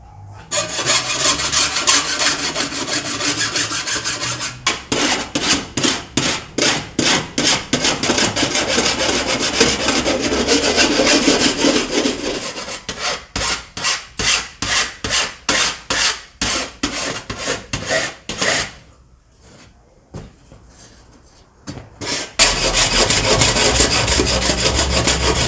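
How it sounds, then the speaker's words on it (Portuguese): A hand file rasps across the sharp metal edges of a cut PC case window during a case mod: steady scraping at first, then a long run of quick, rhythmic back-and-forth strokes, a brief pause, and more continuous filing. "Agora eu preciso pegar umas lima e limar, porque tá com ponta de metal para tudo que é lado aí."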